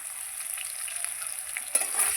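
Potatoes fry in a pan with a steady oil sizzle, with a brief clatter of stirring near the end; no voices.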